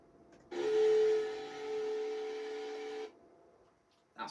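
Hand dryer 1 roars on for about two and a half seconds with a steady, strong hum and airy whoosh, then cuts off abruptly, followed by a short thump.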